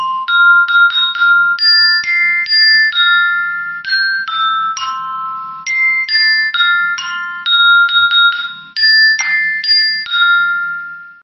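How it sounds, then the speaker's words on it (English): A xylophone plays a quick, bright melody of struck wooden bars, notes ringing out in short phrases with small pauses between them, clear and alone. "This is a sound of the xylophone."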